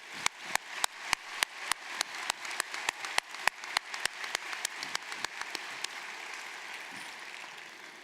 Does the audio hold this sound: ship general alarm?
no